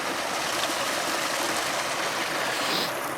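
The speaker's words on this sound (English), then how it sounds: "Oh, some little streams heading down the hills" Small streams run down the hillsides on a country walk between Littleborough and Walsden, a faint, steady rush of flowing water with no talking.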